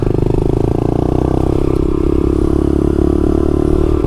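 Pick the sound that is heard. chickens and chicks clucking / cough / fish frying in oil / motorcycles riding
motorcycles riding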